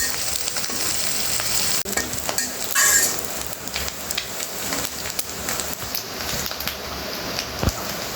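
Shrimp and onion fry in hot oil for a Bangladeshi home-style shrimp and okra dish, a dense, steady crackling sizzle close by, with a few sharper pops and clinks of stirring and no talking.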